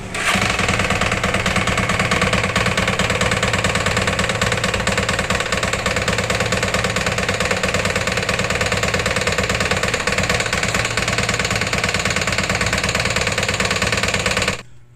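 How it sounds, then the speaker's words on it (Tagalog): A noisy, knocking carbureted Raider 150 motorcycle engine runs steadily and loud up close, its dense mechanical clatter continuous for the whole stretch before cutting off at the end. "So yun yung tunog nung makina ng motor ni boss"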